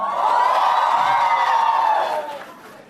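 A university conference crowd in Mumbai cheers and whoops loudly, a dense sustained roar of voices that swells for about two seconds and then fades away.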